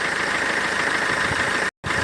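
A Thunderbird car engine idles steadily under diagnostic testing, with a continuous loud rumble and rhythmic induction pulses that cut out briefly near the end before resuming.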